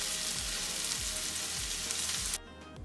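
Winter squash and other vegetables stir-frying in a hot pan, a steady bright sizzle with soft rhythmic tossing scrapes about every half second, cutting off abruptly near the end.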